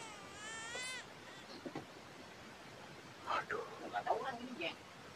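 A baby cries faintly in a village. A thin, wavering wail comes at the start and is followed by soft rustling and people talking quietly.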